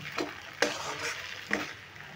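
Spiced potato filling stirred and mixed in an oiled kadai, with soft sizzling under a few distinct scraping strokes of a spatula against the pan, close and moderately loud.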